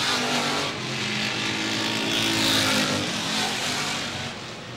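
A 1985 Chevy Monte Carlo race car on a qualifying run, sponsored by LAX Print, roars past as a loud sustained engine drone that swells and fades over a few seconds.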